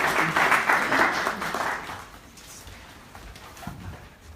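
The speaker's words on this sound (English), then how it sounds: "So let's just give her another round of applause." Applause from an audience at a community talk with the mayor and a councillor present, a loud, dense burst of clapping that thins out and fades over a few seconds.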